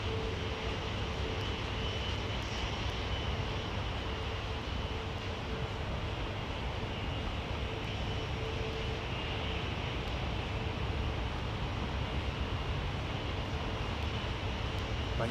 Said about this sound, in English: hearing an engine start up somewhere in the background